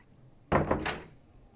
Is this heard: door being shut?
yes